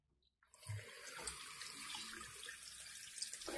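Tap water gushes into a plugged sink, filled to submerge a Doogee V30 rugged phone, starting abruptly after a brief silence and then running as a steady, close rushing stream.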